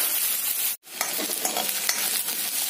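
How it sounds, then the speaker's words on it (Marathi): Chopped onion frying in a pan on a gas stove for paneer tikka masala, a dense, steady sizzle with a brief cutout and scattered stirring scrapes, close and loud. "कांदा भाजून घेणार आहोत आपण."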